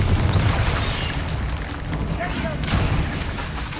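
A Confringo blasting spell explodes in Hogwarts Legacy, giving a steady, heavy roar of booming blast noise that stays loud and continuous, with a brief crackle near the middle.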